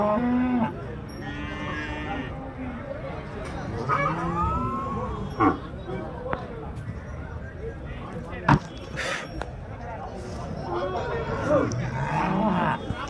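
Punganur cows and bulls at a crowded cattle market give scattered moos and lowing calls at varying distances over a steady din of people talking and milling about.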